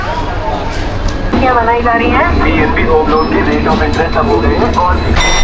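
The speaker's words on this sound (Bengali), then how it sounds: "করমণ্ডল এখন স্পিড নিচ্ছে আমাদের 125।" Coromandel Express train pulling out of Kharagpur station and gathering speed, a steady loud rumble of wheels and carriage noise throughout with a brief squeal near the end.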